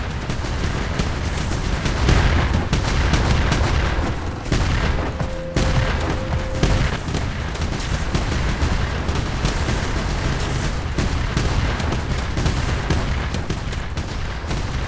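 Rapid-fire penetrating shots crackle continuously through a shooting video game played during a gaming world record attempt, a dense, loud barrage with no pause and a brief tone near the middle.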